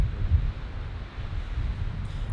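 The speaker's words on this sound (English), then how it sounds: "It's very windy outside," Steady desert wind in Canyonlands rumbling against a microphone, a low continuous buffeting with gusts, heard alone with no voices.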